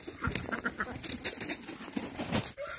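A duck quacks among farm birds outdoors on a sunny day, with busy overlapping calls and clucks at moderate distance and no talking.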